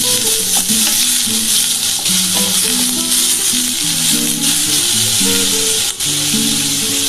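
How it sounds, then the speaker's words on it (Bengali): Mutton mince frying in a pan, a loud continuous sizzle with stirring and scraping throughout, close up and uninterrupted. "এর মধ্যে আমি এই যে কিমাটা দিলাম, এটা কিন্তু মটন কিমা। ভালো করে ভেজে নিতে হবে।"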